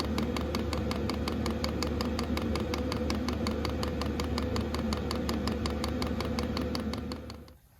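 A Chinese 5kW diesel heater with its fuel pump runs as a steady, close mechanical hum and whir with a fast, even ticking pulse throughout, then fades out abruptly at the end.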